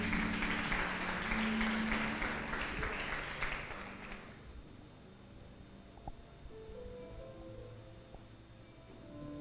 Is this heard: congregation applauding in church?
yes